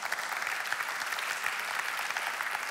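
Dense, steady applause from a church congregation fills the whole stretch, loud and continuous with no voices rising above it.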